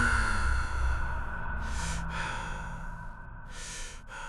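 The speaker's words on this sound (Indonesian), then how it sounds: "Bukan hembusan alami, melainkan suara napas." Eerie, close breathing in a horror story, made of slow drawn-out breaths and two hissing exhales over a dark, rumbling drone.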